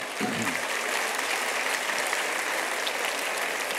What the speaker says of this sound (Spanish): No sé exactamente qué aplauden, pero me imagino que es a Víctor Hugo